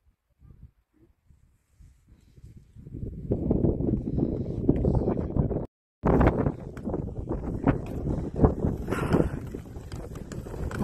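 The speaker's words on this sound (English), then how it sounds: "it's getting windier and windier. Very windy." Strong wind near a mountain top around 3000 feet up, starting quiet with footstep-like thumps then swelling into loud roaring gusts buffeting the microphone, broken by a brief cut.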